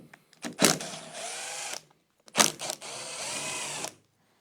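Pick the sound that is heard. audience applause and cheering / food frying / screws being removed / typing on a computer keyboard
screws being removed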